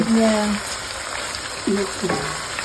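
Food sizzles steadily in a pan in a home kitchen, a continuous close frying hiss broken by scraping stir strokes, with a few brief tonal sounds rising above it.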